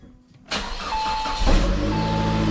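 An old Saab 9-5 Aero with 200,000 miles cranks and catches after a quiet moment, then settles into a steady idle that swells slightly, close up and without talk.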